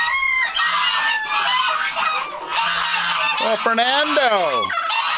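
Chickens and Pekin ducks in a crowded, noisy farm bird enclosure keep up loud honking, quacking and crowing, with a few sharp calls rising above the din, close by, while a person briefly speaks.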